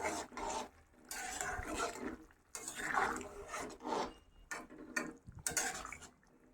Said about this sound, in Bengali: তো এবার নেড়ে চেড়ে নেবো আমি।